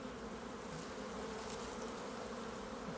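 Honey bees buzz steadily over a hive frame on a winter day, a continuous close drone with no pauses and no voices.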